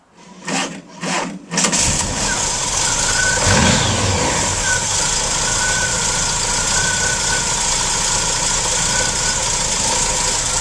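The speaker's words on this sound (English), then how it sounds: "I'll go and start engine up and see what story is." Volkswagen T25 van engine cranking in a few short bursts, then catching and settling into a steady, loud idle that runs on evenly to the end.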